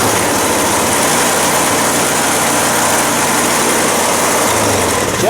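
A Craftsman SB410 snow blower engine, throttle in the run position, running loud and close after a pull start, a steady rough drone that holds throughout with no talking.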